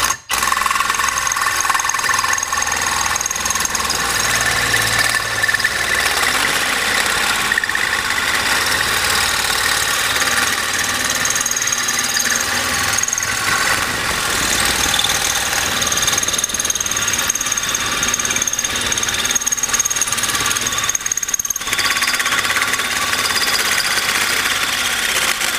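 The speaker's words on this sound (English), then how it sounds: "Drill a hole right through stainless steel," Continuous harsh, grinding drilling noise, loud and unbroken throughout, as a hole saw on a power drill bores through stainless steel.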